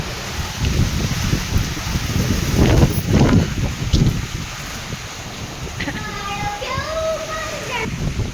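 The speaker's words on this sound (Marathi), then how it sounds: "खूप जोरात पाऊस आला आहे." Heavy summer rainstorm with wind, a loud broad roar of rain and gusting buffets against the microphone, with a voice speaking briefly partway through and a voice near the end.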